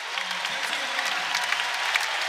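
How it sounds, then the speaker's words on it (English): Warm applause from a basketball arena crowd at an Indiana versus Eastern Illinois game, a steady patter of many hands clapping, moderately loud and continuous without spoken words. "And Baco checks out to a warm round of applause."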